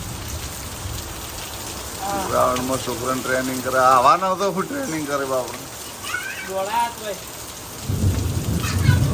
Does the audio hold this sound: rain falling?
yes